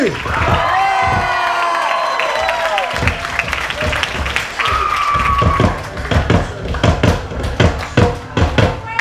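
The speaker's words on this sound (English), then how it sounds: "Come on, everybody, one applause for our warriors." Audience at a village show in Tonga applauding and cheering for performers, with a burst of whoops and shouts followed by steady clapping and loud hand claps standing out near the end, mixed with crowd voices.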